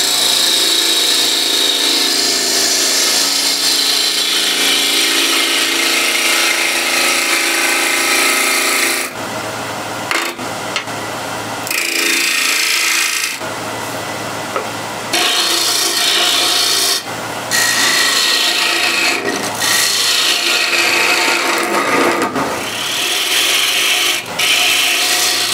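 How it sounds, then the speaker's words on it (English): Spindle gouge cutting a walnut blank spinning on a wood lathe while truing it up for a hat stand, a steady loud scraping rasp with brief pauses and restarts, no voices. "Spindle gouge to true it up."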